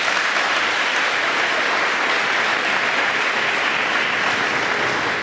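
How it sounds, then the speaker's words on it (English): Sustained, loud applause from an audience at a middle school promotion ceremony honoring cum laude members, an even crowd clapping throughout with no pauses. "So we can just give a applause for each one of them."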